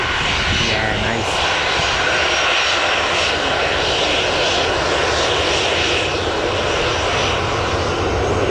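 Jet2 airliner at Newcastle Airport during pushback, its engine giving a steady, loud broadband roar that runs unbroken throughout, with a faint voice underneath.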